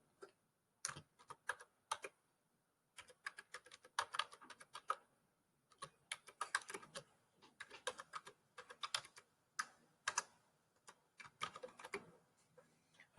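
Quiet typing on a computer keyboard while working in Microsoft Office, irregular bursts of light key clicks separated by short pauses, close but soft.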